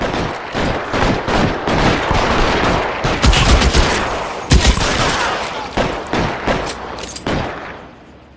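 Bursts of submachine gun fire from the video game L.A. Noire crackle in a rapid, dense run of shots, loud and close, with a few heavier booming reports mixed in and no talking over them.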